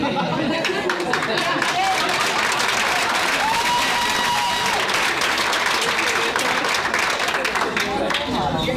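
Steady applause from a sizeable audience at a school district board meeting, dense continuous clapping mixed with crowd chatter and scattered voices throughout.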